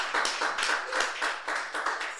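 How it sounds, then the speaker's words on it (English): A single person claps steadily and briskly in a quiet room to honor a podcast guest, with close, even hand claps over about two seconds and no talking. "Let's clap it up for Brittany K."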